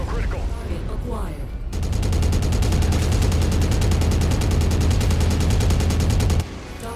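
Sustained, rapid mech machine-gun fire from the video game MechWarrior rattles as one continuous loud burst for nearly five seconds, with quieter game sounds before and after it.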